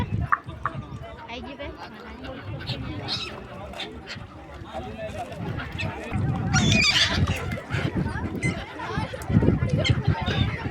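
Birds honk and call at Triveni Sangam, a river confluence, with goose-like cries rising over a busy outdoor scene and people talking nearby throughout.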